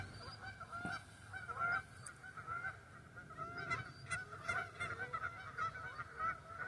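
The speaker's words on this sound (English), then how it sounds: "Listening to the geese come in talking, they're looking for their comrades." Geese flying in over rice paddies in north central California, honking and calling repeatedly in overlapping, irregular bursts, moderately distant and fairly faint against a soft outdoor background.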